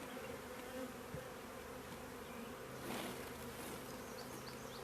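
Dense, steady buzzing of many honey bees close by in a hive, a continuous droning hum with no talking.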